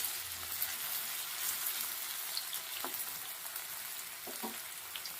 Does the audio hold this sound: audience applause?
no